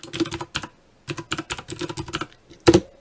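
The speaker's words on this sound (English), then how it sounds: "You'll type your last name" Computer keyboard typing in a word processor, several quick bursts of key clicks with short pauses between them and a final louder flurry, close and clear with no talk.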